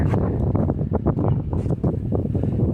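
Cold wind buffets the microphone outdoors near a horse's water trough in Colorado, giving irregular loud gusts and rumbling bursts that rise and fall throughout, with no talk.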